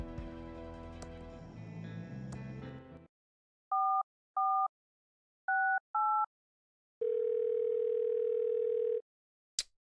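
A telephone in the Thimbleweed Park video game: a burst of tones, then four paired dialing beeps, followed by a steady two-second dial tone and a sharp click at the end.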